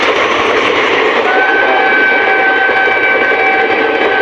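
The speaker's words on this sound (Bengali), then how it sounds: "কত স্পিড আছে ট্রেনটি গাইস, আমাদের এখানে দাঁড়াবে না গাইস ট্রেনটি" Train rushing past at speed without stopping at a West Bengal railway spot, a loud continuous roar with a rising whine, heard up close.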